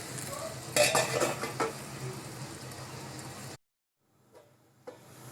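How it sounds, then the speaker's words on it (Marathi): Thalipeeth cooking on a tava over medium gas, a close sizzle with scraping and utensil clinks that cuts off suddenly when the lid goes on, leaving near silence with a few faint taps. "आता हे मी तव्यामध्ये टाकून घेतले आणि मीडियम गॅसवरती ते भाजून घेणार आहे।"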